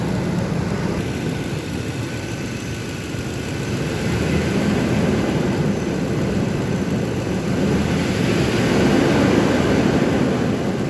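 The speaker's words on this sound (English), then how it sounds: "I'm going to idle the engine up and see if it changes." A truck engine held at raised idle, a steady droning rumble that swells slightly louder partway through and keeps an even tone, with no talking.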